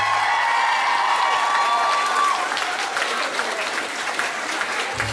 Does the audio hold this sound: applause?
yes